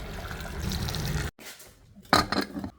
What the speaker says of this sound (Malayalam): മുങ്ങണ പോലത്തിലുള്ള വെള്ളം ഒഴിക്കണം